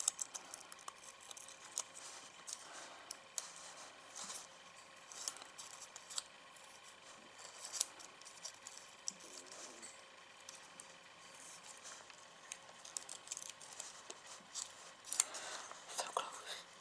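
Scissors snip out closely spaced paper teeth shapes, a run of quiet crisp cuts with small pauses between them, close by and with no voices.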